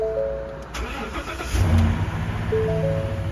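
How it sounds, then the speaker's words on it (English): A 2017 Ford F-250 XLT with a 6.2 L gas engine starts cold for its first run of the morning: a brief crank, then the engine catches and revs up before settling into a steady idle nearby. "Fired right up, obviously that gas engine."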